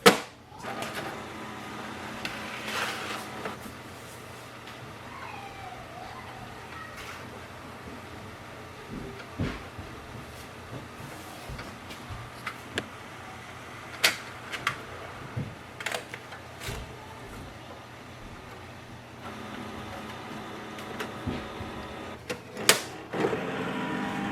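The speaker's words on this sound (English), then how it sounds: "To start the scanning, click on the scan icon and wait for the printer." An HP DeskJet 4300-series inkjet printer whirs and clicks through a scan, with a steady mechanical hum, occasional sharp clicks and motor sweeps at a moderate distance.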